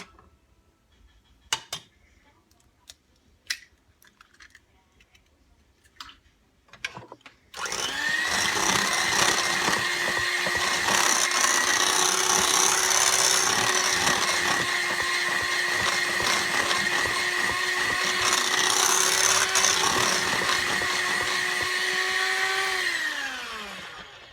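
An electric mixer beats pumpkin cheesecake batter with eggs in a long, loud, continuous whir, preceded by a few scattered clinks and taps before the motor starts.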